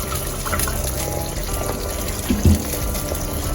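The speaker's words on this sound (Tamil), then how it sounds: "அரை கிலோ அரிசிக்கு ரெண்டு கிளாஸ் தண்ணி ஃபுல்லாக ஊற்றுங்க" Two glasses of water are poured into a pot of chicken biryani base, a brief gurgling fill with a heavier splash near the end, close and moderately loud.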